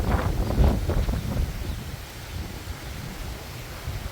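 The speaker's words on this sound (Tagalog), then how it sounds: "Kasi malakas ng hangin." Strong wind buffets the microphone outdoors on a vegetable farm, a rough, continuous roar that swells in gusts at first and then settles into a steadier rush, with no talking.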